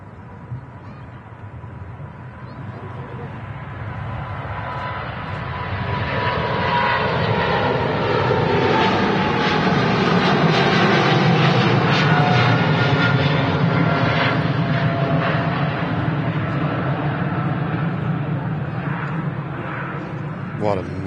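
A jet airliner departs Manchester Airport on a fast takeoff roll and rotation, its engine roar building from a steady rumble into a loud, sustained blast that holds near and broad before easing slightly as it climbs away.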